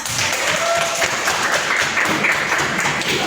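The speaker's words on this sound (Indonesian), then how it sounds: "Tepuk tangan dong buat kalian semua." A class of students applauds their classmates' drawings, a dense steady clatter of many hands clapping together at close range with no talking over it.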